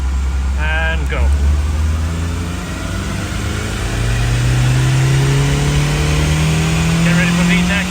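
A Honda CRX engine on a dynamometer revs steadily upward through a long pull, its tone climbing continuously, loud and close, with brief voices at the start and near the end.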